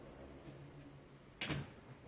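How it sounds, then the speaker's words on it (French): A door closes gently with a single short, soft knock near the end of a quiet indoor moment, faint and alone against low background hum. "Doucement la porte."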